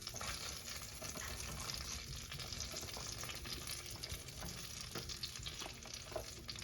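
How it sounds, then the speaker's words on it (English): Small diced potatoes tumble into a buttered pan fresh from the oven, giving a faint, steady sizzle with light scraping and shuffling throughout. "So now I got my butter pan out of the oven. I'm just gonna add my potatoes."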